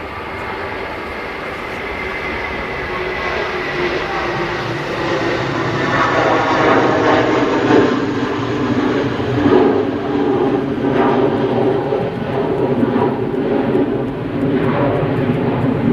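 A Lufthansa airliner takes off on the runway at Manchester Airport, a loud, steady jet engine roar that swells and holds as the aircraft accelerates, with no talking over it.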